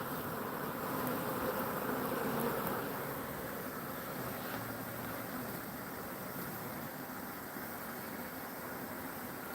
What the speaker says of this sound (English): These bees are still going up and falling down.